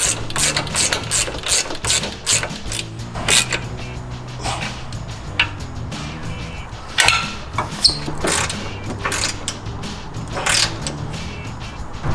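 Ratcheting and metallic clicks come from bolts being tightened on Fox 2.0 shocks on a Jeep Wrangler JL Rubicon with a Metal Cloak 3.5-inch lift. Bursts of close ratchet clicking repeat over a steady background hum.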